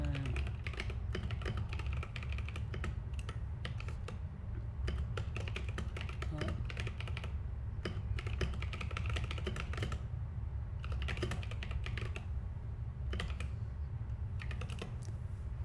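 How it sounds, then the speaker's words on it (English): Rapid clicking on a computer keyboard comes in quick uneven bursts with short pauses between them, close up, over a low steady background hum. "I was just typing out a stream notification manually."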